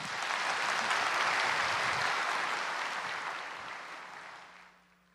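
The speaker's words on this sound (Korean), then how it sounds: "우리 형제 나올 때 한번 큰 박수로." A big round of applause from a church congregation, a full dense wash of clapping that holds strong and then gradually tapers off toward the end, with no voices over it.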